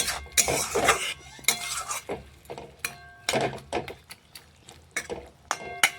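Fried mung dal bori and bottle gourd being stirred in a pan, a run of clattering metal spoon scrapes and knocks against the pan at close range over a faint sizzle, with no voices.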